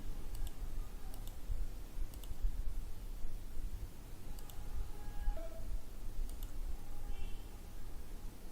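Computer mouse clicks while assigning frame loads in structural building-design software, sounding as faint, sparse, evenly spaced clicks over a steady low hum.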